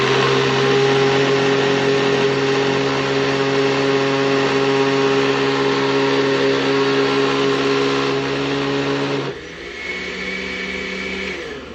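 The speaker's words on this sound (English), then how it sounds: "When the blender changes its sound, it's done." A blender crushing a frozen drink whirs loudly and steadily, then its pitch drops and the motor note changes near the end as the contents turn slushy.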